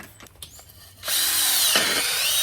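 A power drill whirs steadily after a moment of quiet workshop noise, spinning a cleaning tool to clear oil from the intercooler of a 1JZ engine.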